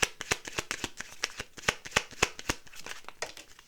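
Tarot cards being shuffled by hand, a rapid run of crisp riffling snaps and slaps in an uneven rhythm, close and fairly loud with no talking.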